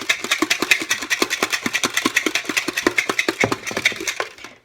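Egg whites are whisked briskly with protein powder in a bowl, a steady fast rhythm of close, sharp tapping strokes that slows and stops at the end.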